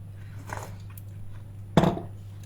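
A crisp Turkish baklava-style pastry is bitten into, giving one sharp, close crunch with a softer crackle earlier, over a steady low hum.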